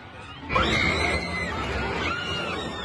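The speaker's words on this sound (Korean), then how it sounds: "다른 관중들은 비명을 지르며 혼비백산 달아납니다." Spectators at a Colombian corraleja bullfight scream as a three-storey wooden grandstand collapses, with a sudden burst of shrill crowd cries and panicked shouting that stays loud and chaotic.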